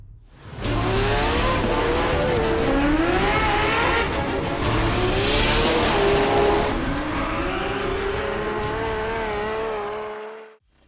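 Nissan GT-R street cars drag racing down a runway at Cootamundra, with loud, sustained engine roar and rising gear-change revs filling nearly eleven seconds, tyre noise mixed in, fading at the end.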